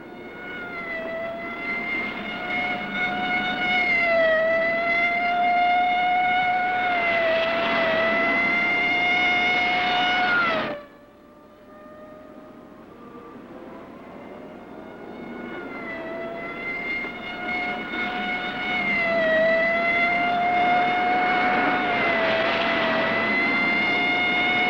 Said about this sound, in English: Lay on the siren, give it everything.